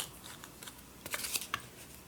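Scissors trim paper for a handmade tag, a few quiet crisp snips and rustles close by, with a small cluster of sharper cuts in the middle.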